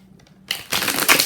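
Tarot cards being shuffled, a quick close riffle of papery flutters that starts after a brief quiet moment and builds into a dense rustling burst lasting under a second.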